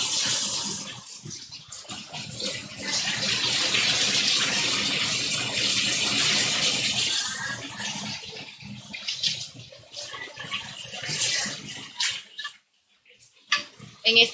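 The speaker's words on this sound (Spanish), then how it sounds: "estamos bendecidos con este aguacero que está cayendo en la ciudad" A heavy rain downpour falls on the city, a broad rushing hiss that swells and stays loud, then thins and briefly drops out near the end.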